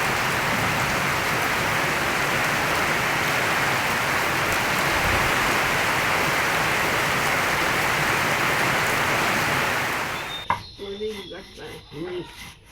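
Steady rain pours down in a village, a dense, even hiss lasting about ten seconds before it cuts off abruptly, leaving quiet room sound with faint murmurs.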